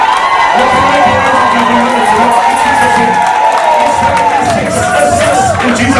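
A church conference crowd in Leicester cheers and shouts loudly, a dense, continuous roar of many voices with whoops and scattered claps that holds steady throughout.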